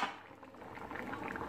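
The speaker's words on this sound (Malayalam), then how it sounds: "ഇപ്പോൾ തിളച്ചല്ലോ" Coconut anchovy fish curry boils in a pot on the stove, giving a soft, steady bubbling and simmering that stays faint and close throughout, with no talking.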